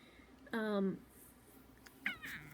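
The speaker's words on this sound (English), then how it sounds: "excuse my cat." A house cat gives two short meows about a second and a half apart. They sound fairly close but quiet in a calm indoor room.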